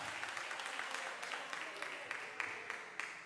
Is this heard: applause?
yes